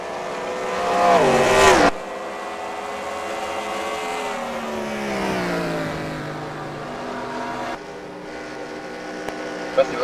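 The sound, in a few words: race cars on the track in a Piston Cup racing video game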